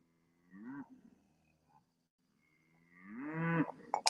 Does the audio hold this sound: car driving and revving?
no